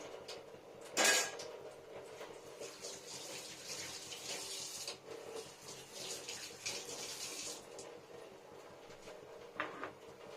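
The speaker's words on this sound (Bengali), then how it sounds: "মশলাটা ভালো করে মিশিয়ে দিই" Small bata fish being mixed with spice masala in a pan, heard as wet squelching and soft stirring with occasional clinks of utensils, one sharp clatter near the start, faint and close, no talking.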